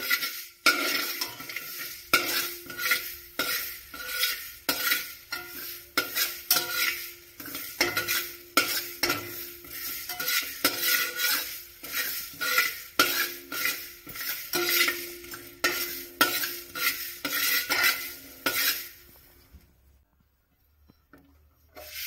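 Cumin, mustard and coriander seeds fry in a pan for a Nellore fish curry, scraped and stirred with a utensil in steady repeated strokes over a soft sizzle before stopping near the end.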